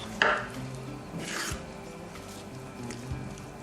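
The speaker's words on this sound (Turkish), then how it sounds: "kırmızı biberimizi doğruyoruz" A knife chops red bell pepper on a board for a lentil and couscous salad. A few distinct cuts come close by and fairly faint, spaced apart, with soft scraping between them and no talking.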